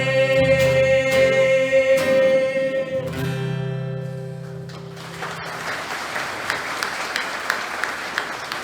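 An audience at a children's awareness event breaks into applause as tonal music fades out, steady clapping filling the last few seconds on its own.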